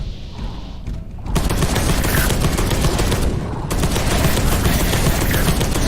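Dense automatic gunfire from Genestealer cultist weapons in Space Hulk: Deathwing hammers away as a continuous loud fusillade, broken by a brief lull before resuming, with no talk.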